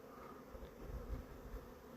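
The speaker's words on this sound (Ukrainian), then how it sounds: "цей вулик взагалі капітально облітується" Honeybees buzz around a hive on a winter cleansing flight in an apiary, a faint, steady, low hum of many wings with no voices.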